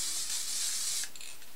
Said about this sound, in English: So I'm just going to spray this right in the area to fix